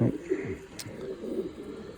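Pigeons in a rainy yard coo softly in low, repeated rolling calls close by, with a brief high burst partway through and steady background noise throughout.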